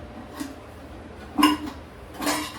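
A few light clinks and clatters of kitchen dishes and bowls being stacked and put away, spaced apart over a quiet background.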